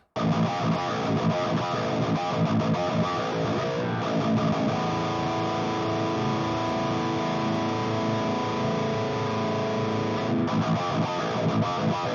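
A heavily distorted electric guitar rings out in a thick, buzzing sustained chord that drones steadily for several seconds.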